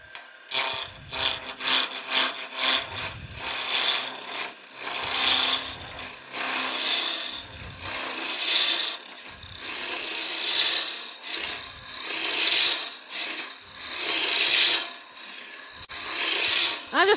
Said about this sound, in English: I'm going to just going to finish roughing this out